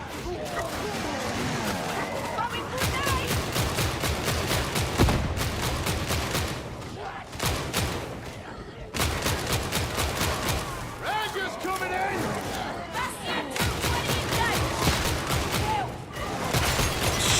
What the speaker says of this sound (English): Shooting friendlies